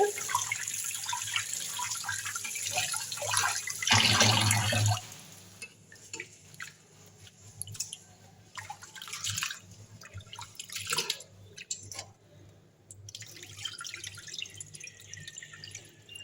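Ration rice being washed in water, with a burst of sloshing and pouring, then scattered drips, splashes and rustling of grains in a bowl, close by and fairly quiet, without speech.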